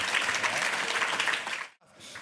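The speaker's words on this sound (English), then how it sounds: "Keep that applause going and put your hands together for both the boys." Studio audience of a footy TV show claps in a brief, dense burst that cuts off abruptly, followed by a faint trailing patter.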